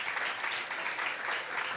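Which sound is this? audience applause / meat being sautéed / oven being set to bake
audience applause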